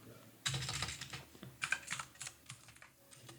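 Quick bursts of keystrokes on a computer keyboard as a short word is typed, close and crisp, with a brief pause between clusters of taps and no talk.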